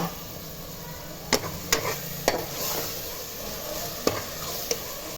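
Onions and spices sautéing in a pot for prawn biryani, with a steady sizzle and several sharp clanks as a spoon stirs and scrapes, close up with no talking.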